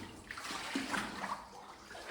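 Water trickles and splashes into a void deep in a mine, a continuous wet spattering heard close and moderately faint, with no voices over it.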